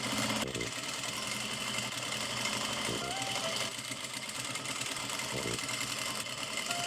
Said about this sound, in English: grab some bias tape, and sew over that seam